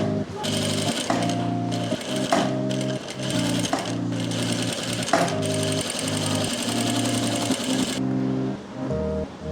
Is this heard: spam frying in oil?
no